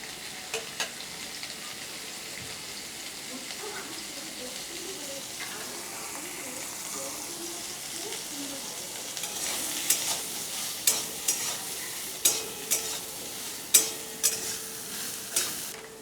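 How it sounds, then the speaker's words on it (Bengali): Soybean chunks frying in hot oil give a steady close sizzle, with scraping stirs and sharp clicks toward the end. "এই তেলের মধ্যে আমি সয়াবিনগুলো দিয়ে দিলাম।"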